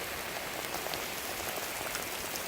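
Heavy rain pours steadily during a thunderstorm, a dense, continuous wash of drops hitting surfaces nearby with no voices.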